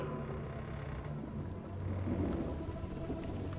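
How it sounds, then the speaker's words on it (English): Heavy rain and thunder in a storm at sea, a faint continuous hiss of downpour with low rolling rumbles swelling midway, heard alone without voices. "This is no ordinary storm."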